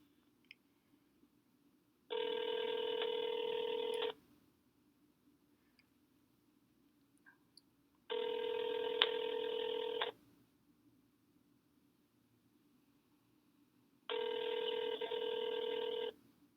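A telephone call's tone sounds in three steady, identical bursts of about two seconds each, separated by silent gaps. It is clear and electronic, with no talking.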